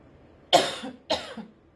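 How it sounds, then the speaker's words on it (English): Two sharp coughs in quick succession, close and fairly loud, with a short pause between them and quiet before and after. "that was a cough out of nowhere"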